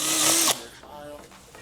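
A power drill whirs loudly for about half a second while backing out one of the three bolts holding the blower on a Sea-Doo engine, then the tool stops and quieter workshop noise and handling follow.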